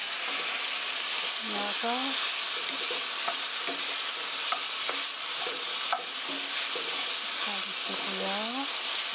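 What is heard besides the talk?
stir-frying onion, green onion, garlic and carrot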